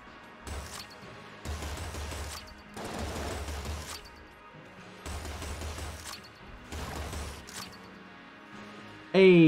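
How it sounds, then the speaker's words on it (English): Gunfire in the heavily modded roguelike shooter Enter the Gungeon, bursts of rapid shots and impacts coming in several clusters, loud and close, over a continuous game soundtrack. "Wait, there is something shooting at me."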